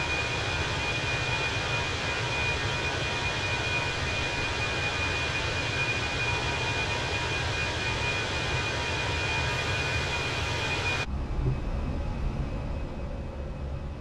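Airliner engines roar during takeoff in Microsoft Flight Simulator 2020, a loud, steady broadband drone with a high whine that holds throughout and then drops in level near the end, with no voices.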